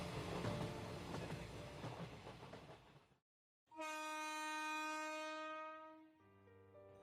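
A train pulling into a station as a sound effect: a dense rumbling approach, a brief gap, then a long, loud, tonal horn blast that holds and steps down before ending.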